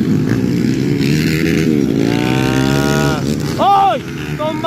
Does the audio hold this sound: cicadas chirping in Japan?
no